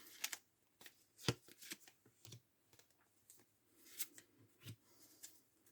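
Tarot cards are drawn and shuffled from a deck in a series of crisp papery snaps and slides, close and fairly quiet, with irregular bursts and short pauses between them.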